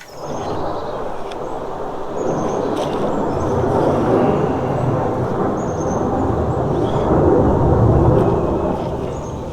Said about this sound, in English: not that you guys can hear me all that well because of the jet flying over